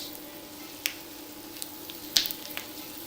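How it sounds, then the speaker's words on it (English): Ginger and curry aromatics sizzle quietly in a pan, with a steady low frying hiss and a few sharp pops and crackles breaking through. "Let that sizzle a little bit."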